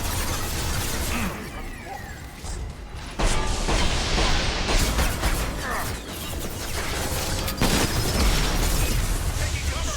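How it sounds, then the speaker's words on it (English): An explosion in the Mass Effect 2 video game, loud bursts and crashing debris layered over dense combat noise and gunfire, sustained and harsh across the whole stretch. "the explosion killed me"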